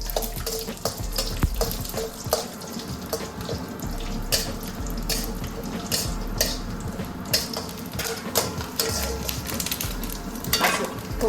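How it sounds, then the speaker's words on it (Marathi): Grated coconut fries in oil for a green chilli curry, a busy continuous sizzle and crackle with splashy, watery bubbling and occasional stirring clicks, close by with no speech. "तेल टाकते आधी खोबरं तळून घेऊ"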